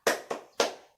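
Three sharp hand claps in a classroom, near and distinct, evenly spaced in a quick rhythm as part of a clapping chant, with no voices over them.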